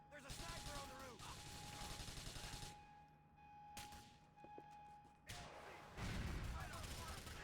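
Gunfire in GTA IV, bursts of rapid automatic shooting with sharp cracks trading back and forth in a rooftop firefight, loud and dense, pausing briefly before resuming, while game voices shout over it.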